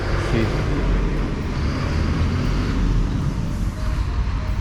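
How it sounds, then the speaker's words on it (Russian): Busy morning traffic on a road in Puerto Aventuras, Mexico, a continuous close roar of cars and heavier vehicles rolling past without a break. "Мучо трафика."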